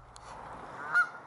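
Geese or ducks by a river give a quick honk, then a brief louder honk close by, faint against a quiet outdoor background.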